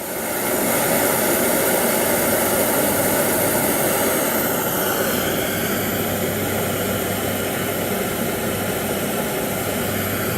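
A camping stove burner turned up to full flame roars loud and close as a steady jet-like hiss with no break, and its tone shifts slightly partway through.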